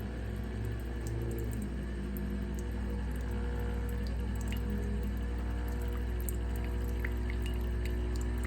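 Nespresso Vertuo Plus coffee maker running a rinse cycle with water: a steady low pump hum with faint trickling and scattered drips, continuous and close, with no voices.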